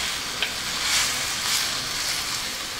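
A seafood sauce with chicken broth sizzles steadily in a pan while being stirred, a close, loud hiss with soft swells of movement and no voices.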